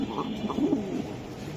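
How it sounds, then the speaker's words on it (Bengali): Soft, low cooing of racer pigeons in a few rounded, repeated phrases, close by, with no talking. "এই জোড়াটা নিতে পারেন এই যে কোয়ালিটি ফুল কবুতর"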